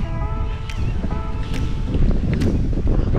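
Strong wind rushes through a crowded park on a cool fall evening, a loud continuous roar with gusty swells and faint tones in the background.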